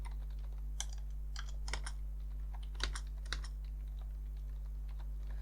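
Keys clatter in a short, uneven burst on a computer keyboard while JavaScript code is typed, a few sharper keystrokes standing out over a steady low hum, with no talking.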